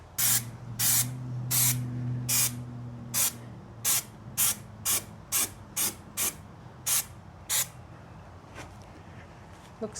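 Spray painting car parts on an old Land Cruiser, with about a dozen short bursts of aerosol hiss in a steady rhythm, close and fairly quiet, fading out toward the end and with a low hum under the first half.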